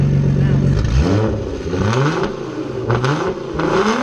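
A Nissan Fairlady Z fitted with an R35 GTR exhaust revs up and down repeatedly, its engine note rising and falling in several rasping sweeps close by, with a brief voice heard over it.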